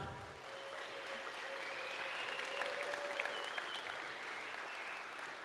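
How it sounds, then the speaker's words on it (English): A Bitcoin conference audience gives a speaker sustained applause, a steady, even wash of many hands clapping throughout, fairly soft and heard from a distance in a large hall. "I think she deserves another round of applause."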